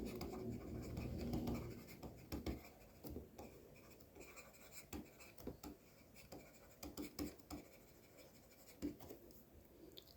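A pen writes on paper at an accounting desk in quick, uneven scratchy strokes, close and quiet, with short pauses between bursts and no talking.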